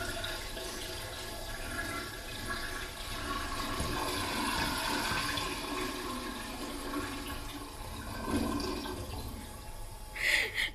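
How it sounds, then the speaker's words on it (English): A toilet flushes in one continuous rushing surge of water, fairly close and loud for about ten seconds, with gurgling and refilling near the end; no one speaks. "That was a toilet flushing."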